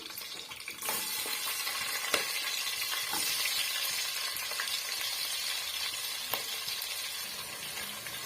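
Onions sizzling and frying in hot oil for chicken biryani, a steady loud crackle with occasional sharp pops and stirring clinks throughout, no talking.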